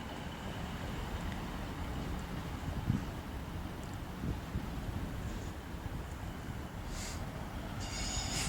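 An East Midlands Railway train rolls through Leicester station with a steady low rumble of wheels on track and faint squeals near the end, heard from the platform at moderate distance.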